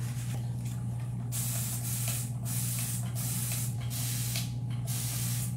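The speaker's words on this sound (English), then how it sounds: "So I'm just using my spritz bottle." A spritz bottle sprays water while embellishing a tray with paint inlays: several short hissing bursts in a row, close and fairly loud, over a steady low background hum with no speech.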